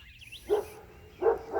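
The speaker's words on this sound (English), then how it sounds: "The dog over there going crazy." Dog barking outdoors near a backyard bird feeder, two short barks a moment apart, moderately distant and fairly faint.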